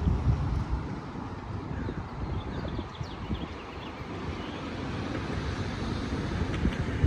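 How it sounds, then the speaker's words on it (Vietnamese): Wind gusting steadily by a roadside near the Bay Bridge at Treasure Island, San Francisco, a continuous broad rumbling roar with microphone buffeting throughout, no talking. "mình không biết là cái tiếng gió thổi hù thế nào cũng phải có"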